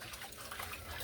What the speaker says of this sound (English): I am going to let this water out today.